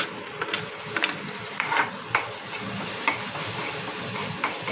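Onion, tomato and ginger garlic paste sauté in a pan for prawn gravy, giving a loud, steady sizzling hiss with a few soft scraping stirs scattered through.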